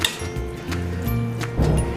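Three kilos of rice being stirred in a large cooking pot for chicken pulao, with repeated scraping and clinking of a utensil against the metal in uneven strokes, close and fairly loud.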